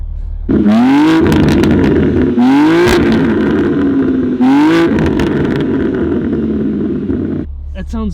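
Loud, close revving from a BMW G87 M2 through an aftermarket exhaust: three quick rising blips with a long, sustained high-rpm hold in between, cutting off abruptly near the end.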